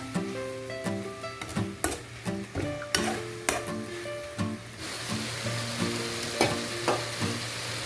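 Beef and mushroom stir fry sizzles steadily in a pan, with repeated clinks and scrapes of a utensil stirring against the cookware throughout, close and fairly loud, no voices.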